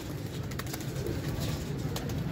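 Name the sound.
pigeons cooing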